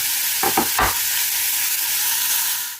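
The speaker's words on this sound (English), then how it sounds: "into that I'm going to add 2 medium onions roughly chopped" Roughly chopped onions hit hot olive oil in a large heavy-bottomed saucepan and sizzle loudly and steadily, with a few scraping stirs early on.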